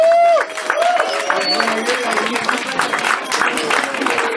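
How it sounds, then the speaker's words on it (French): Applause rises from the audience at a film festival closing and awards ceremony after a sustained tone at the start, with dense clapping and crowd noise mixed with some voices. "Sous vos applaudissements, bien sûr."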